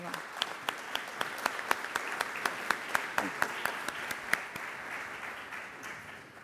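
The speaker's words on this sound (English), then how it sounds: "a round of applause" An audience at a debate session applauds the panel with steady, fairly faint clapping and distinct individual claps standing out through the continuous patter, gradually tapering off.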